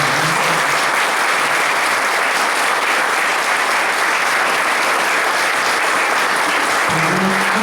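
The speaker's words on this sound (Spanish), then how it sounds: "pido un fuerte aplauso para nuestros expositores que nos acompañan muy bien." Sustained, loud applause from an audience at a book launch, steady clapping filling the whole stretch with a brief low voice near the end.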